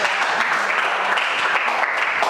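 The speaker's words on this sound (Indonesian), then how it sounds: "Oke, tepuk tangan." Audience applause in a classroom, a dense, steady wash of clapping from a group of students that holds evenly for a couple of seconds with no talk over it.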